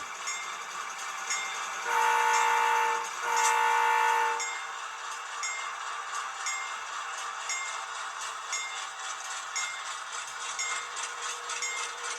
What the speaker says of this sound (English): blow the horn. Horn's got nice volume on there.